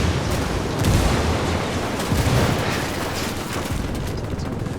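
Frag grenade explosions in Ghost Recon, a dense roaring rumble of blasts and debris that stays loud and steady with no pauses.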